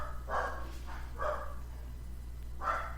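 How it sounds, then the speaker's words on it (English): A dog barks three separate times, each a short moderately loud bark with pauses in between, heard over a steady low hum. "Hold on for this dog to stop barking."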